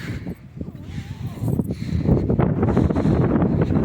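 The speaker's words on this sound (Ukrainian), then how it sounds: "тут вітер, що може мене погано буде чути, але стараюсь прикривати трохи мікрофон" Rough, low wind buffeting against a microphone on a mountain pasture, rumbling continuously and growing stronger, with faint outdoor rustling beneath.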